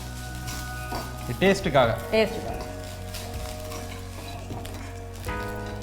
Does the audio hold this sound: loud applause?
no